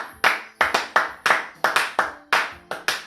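A church congregation claps in rhythm, a series of about fifteen sharp, fairly even hand claps in a steady beat, close and clear with no voices.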